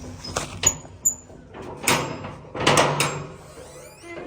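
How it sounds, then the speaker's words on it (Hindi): A door in a home rattles in several short knocks and clattering bursts, moderately loud and close, with quieter gaps between the jolts. "दरवाज़ा खड़का हुआ।"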